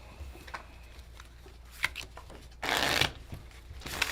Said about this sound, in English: We'll shuffle our decks, draw 6 cards.